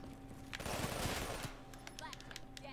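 Machine gun fire in a Black Ops 3 gun game match: a sustained rapid burst of shots about a second long, loud over steady game noise, then followed by scattered smaller effects.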